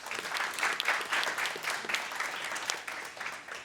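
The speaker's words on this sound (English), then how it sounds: "So give Victor a round of applause, please." An audience applauds an inductee at a design program event, with dense steady clapping that fades slightly near the end, at moderate volume.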